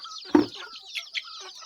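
Two-month-old fighting cock chicks clucking and cheeping close by, one louder cluck followed by a few softer chirps and calls, with no talking.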